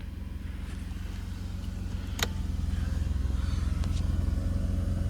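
A Mercedes 190E 2.6, unstarted for about a week, idles steadily just after firing up, a loud even engine throb close by with a brief click partway through.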